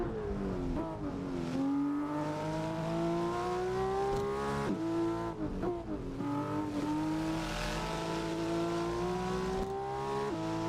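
A racing car engine in the PC game Assetto Corsa drones loudly and continuously, its pitch climbing through the revs and dropping at each gear change in a repeating pattern of acceleration.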